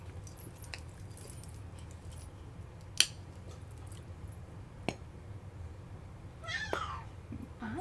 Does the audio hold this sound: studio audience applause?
no